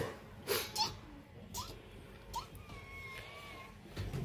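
Persian mix cat, one of a litter of five kittens, giving several short, fairly close meows and faint mewing calls against a quiet indoor background.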